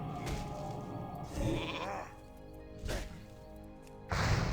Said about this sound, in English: Let me get a sheep off here.